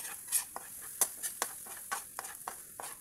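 Minced garlic is stirred in hot oil in a pan with a utensil, giving a quiet series of light scraping taps and small clinks at an uneven rhythm, close by and alone.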